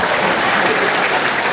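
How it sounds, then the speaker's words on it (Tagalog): Dense, steady audience applause at a Philippine vice-gubernatorial candidates' forum ahead of the May 13, 2013 election, loud and continuous without a break for the whole moment, with no talk over it. "Bakit hindi kayo pumalakpak?"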